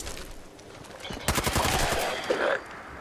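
Bursts of rapid gunfire crackle loudly for about a second and a half amid background noise in Fallout 4, shooting at ghouls, then fade back to a low ambient hum.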